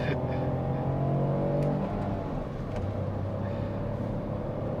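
A Renault Clio with a three-cylinder engine pulls away from an intersection, its engine droning and rising as it accelerates, heard steadily from inside the car, with a couple of faint clicks. No one speaks.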